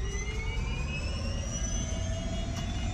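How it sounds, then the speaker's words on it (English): Helicopter engine spooling up in Flight Simulator 2020 for a life flight: a steady turbine whir with rising whine tones climbing gradually in pitch, loud and continuous. "Engine start."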